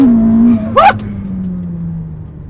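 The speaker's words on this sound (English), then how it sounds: "build up the revs, let go" A Ferrari SF90 Spider hybrid sports car launches from a standstill, its engine held at high revs and then released into a loud, close surge of acceleration with a brief upshift, the note settling and fading over about two seconds.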